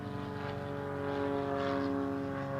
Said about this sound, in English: these airplanes. I'm literally in a flight pattern, so sorry about that.